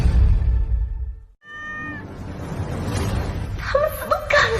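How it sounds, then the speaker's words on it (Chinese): Two small kittens meow, with a few rising meows in the middle and higher overlapping cries near the end, heard close in a palace drama scene with faint voices and a laugh-like chuckle in the background. "哪来的野猫啊！"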